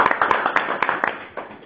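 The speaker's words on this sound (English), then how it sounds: "everybody gets a huge round of applause for that" A huge round of applause on a conference call, heard as a brief burst of sharp claps and taps that thins out toward the end, fairly close and moderately loud.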